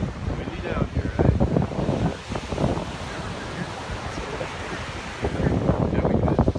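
Wind gusts and surf roll along a beach shore on a cold October day at Bayshore Beach, a steady broadband roar that swells louder at the start and end, with voices faintly under it.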